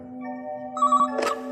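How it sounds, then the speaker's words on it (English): A telephone rings on a desk, a brief electronic trill pulsing a few times over a steady tone, close and fairly loud with no talking. "Just then, the phone on Luke's desk rang."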